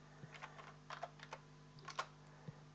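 Keystrokes on a computer keyboard while entering a formula in Excel, a light run of close taps in short bursts with pauses, over a steady low hum.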